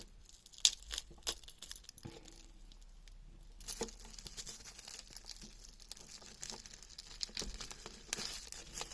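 Close-up crinkling and tearing of plastic watch packaging by hand, with sharp irregular rips and rustles over a quiet background.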